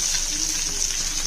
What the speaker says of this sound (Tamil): அதிலே ஒரு 2 கிழங்கா மீன் போட்டு ஃப்ரை பண்ணுறேன்.